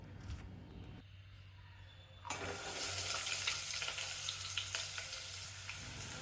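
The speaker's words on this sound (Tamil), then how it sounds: "வெங்காயம் செவக்கிற வரைக்கும் வதக்கணும்." Onions for a vegetable paneer biryani hiss in a pan as they sauté, the frying surging from faint to a steady loud sizzle partway through, with scattered stirring clicks.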